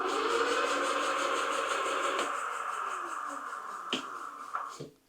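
In gear 3, the 2000W Globalkeep Solei X8 electric dirt bike motor whines steadily up close, slowly fading as it winds down, with a few sharp clicks near the end before stopping.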